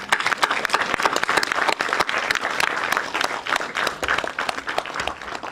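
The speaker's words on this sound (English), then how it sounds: "Let's clap for him." Conference audience applauding in tribute to Sri Vivekananda, a dense, steady wash of many hands clapping for several seconds, close and fairly loud, with no voices standing out.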